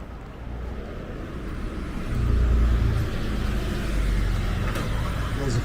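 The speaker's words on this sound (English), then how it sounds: "There's a TUI bus just going past there, stopping outside the hotel." A TUI bus drives past outside a hotel in Puerto del Carmen, Lanzarote, and pulls to a stop, its low engine rumble swelling midway and then idling under faint background street noise.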